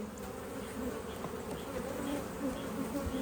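Steady, dense buzzing of many honey bees swarming close by around a hive, a continuous insect drone with no voices.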